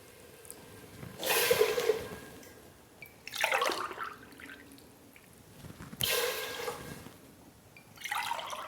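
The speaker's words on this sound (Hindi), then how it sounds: "उसी गिलास से हम इसमें 4 गिलास पानी डालेंगे" Water poured from a glass into a pot of khichdi, in several separate splashing pours with short pauses between them, close by and moderately loud.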